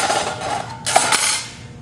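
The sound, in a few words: sheet metal punch punching a hole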